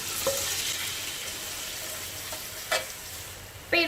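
Sauce-marinated glass noodles go into a hot pan with shrimp, giving a steady faint sizzle and a few brief clatters of utensils against the pan.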